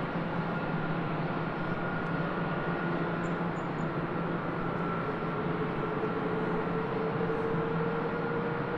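A Hawaiian Airlines heavy jet taking off from runway 24 left, a steady, dense engine roar that holds loud throughout with a faint rising whine, with no talk.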